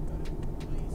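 A truck engine pulling hard at full throttle in Euro Truck Simulator 2, a steady low droning rumble with no break, while someone talks over it.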